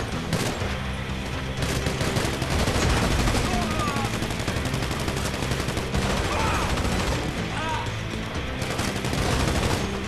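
Gunfire in GTA 5, dense continuous shots and rapid bursts filling the whole stretch at steady loudness, with no pauses between volleys.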